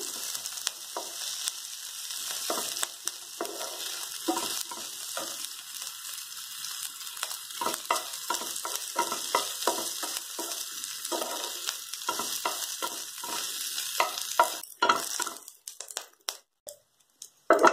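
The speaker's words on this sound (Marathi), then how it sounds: "कांदा लालसर भाजून घेऊया।" Onions frying in a pan for a red pumpkin gravy curry, a steady close sizzle with repeated scraping stirs throughout, breaking into a few sharper clatters near the end, with no talking.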